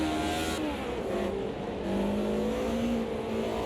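A BMW race car with a five-gear box in the Automobilista racing game, its engine droning steadily with slowly rising pitch as it pulls through a gear, loud and continuous with no talk over it.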